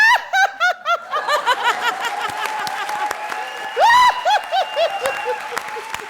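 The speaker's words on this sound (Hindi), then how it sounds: "जोरदार तालियां." A comedy show studio audience bursts into laughter and clapping, bursty waves of giggles and chuckles over applause, loud and close, with a voice heard briefly amid the crowd.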